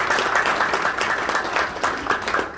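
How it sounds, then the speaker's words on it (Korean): An audience at a business forum lecture on negotiation bursts into loud, dense applause welcoming a speaker, the clapping continuous and close with a crowd wash behind it. "큰 박수로 맞아주시기 바랍니다."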